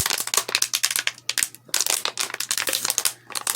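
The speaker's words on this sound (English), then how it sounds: "by cutting the bottom off the water bottle" Scissors snipping through a plastic water bottle to cut off its bottom, a dense run of close, crackling crunches and crinkles with brief pauses between cuts.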